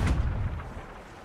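Ship cannon fire in Sea of Thieves: a single heavy boom up close, with a sharp attack and a rumbling low tail that fades over about a second.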